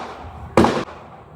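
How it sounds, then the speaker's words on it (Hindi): A single firecracker goes off with one sharp, loud bang lasting about a quarter second, standing out against a quiet, low background. "तो पटाखों की आवाज़ आई"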